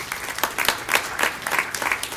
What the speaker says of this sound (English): So let's give them a round of applause as well.